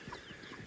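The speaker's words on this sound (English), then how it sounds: "here's our broiler chickens that we run for Wholesome Family Farms" Faint, soft clucking from a group of pastured broiler chickens on a farm, low murmuring calls blending together at a distance.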